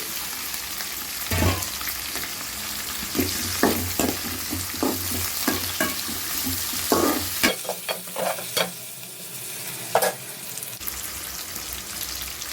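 Bay leaf, mace, sliced onion and green chillies fry in hot oil for a mutton curry, sizzling steadily while a spoon stirs and scrapes the pan in repeated clanks.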